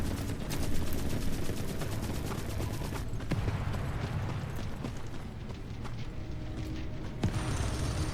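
Gunfire in the video game The Forever Winter: a rapid automatic burst of evenly spaced shots rattles early on, followed by scattered single cracks and clanking mechanical noises over a dense, rumbling battlefield bed.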